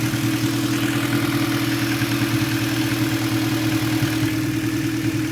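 A 1990 Acura Integra engine idles with no muffler, a steady and loud droning rumble with an even pulse that holds unchanged throughout, with no talking.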